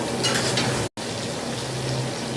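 Paneer frying in a pan for paneer butter masala, a steady broadband sizzle that fills the clip, breaking off for a brief silent gap midway before continuing just as loud.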